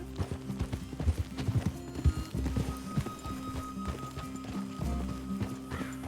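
Horses' hooves clip-clop in Red Dead Redemption 2, a steady rhythm of hoof strikes close by on hard ground, joined by a brief snort or whinny, with no talk.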